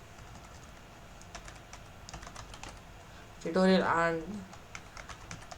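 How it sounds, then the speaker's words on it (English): Steady, rapid typing on a computer keyboard while code is entered, clicking along throughout at close range, with a voice briefly speaking over it. "I'm going to type this first, then I'm going to explain it."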